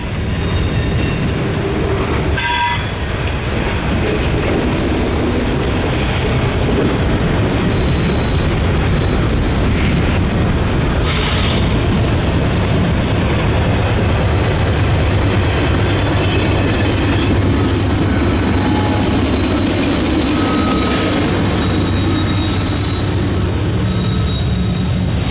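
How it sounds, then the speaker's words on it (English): A Norfolk Southern eastbound freight train passes with six engines, including GE locomotive helpers in heavy snow, giving a loud continuous rumble and growl of motors with wheel squeal and clanking cars close by. "more than welcomed the surprise with the recognizable growl of GE motors"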